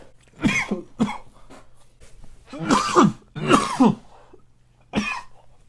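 A person coughs repeatedly in several harsh, throaty bursts, close to the microphone, with short pauses between fits.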